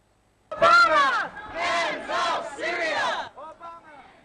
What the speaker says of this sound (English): they were the chants ringing out in Washington, D.C., with crowds marching from the White House to Capitol Hill